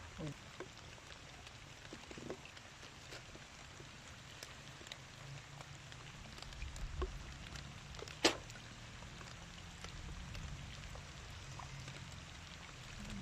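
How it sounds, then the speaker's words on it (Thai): Rain falls steadily outdoors during a riverside fishing picnic, a soft continuous patter with scattered drops and occasional brief clicks and knocks, fairly faint throughout. "ฝนตกแล้วทุกคนเลย"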